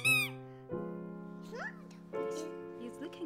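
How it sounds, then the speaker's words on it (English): A squeaky baby toy gives long, steady, whistling squeals in a few sustained pushes, close and fairly loud, with brief chirpy bits in between. "Just a squeaky thing."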